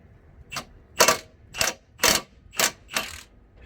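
A ratchet fitted with a 19mm socket loosens the brake bracket bolts on a Nissan Elgrand E51, giving six sharp, close bursts of clicking in an uneven rhythm with short pauses between strokes.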